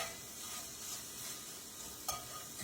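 Onions saute in a pan for ribeye steak and cheese sliders. A faint, steady sizzle carries on alone, with one brief scrape near the end.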